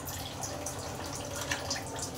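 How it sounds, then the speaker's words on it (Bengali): Water trickling and dripping steadily into a cooking pot with potatoes, a continuous close splashing pour lasting a couple of seconds without speech. "একটু জল দিয়ে দিচ্ছি।"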